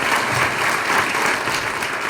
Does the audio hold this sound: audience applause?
yes